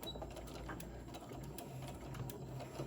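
A sewing machine stitches fabric for a face mask, running steadily with a continuous motor hum and rapid needle rhythm throughout, moderately quiet and close, with no talking.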